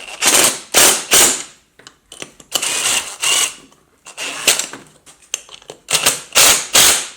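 A ratchet wrench turning nuts on a 10 inch tube tire, producing loud, close bursts of rapid clicking in repeated strokes separated by short pauses, with no talking.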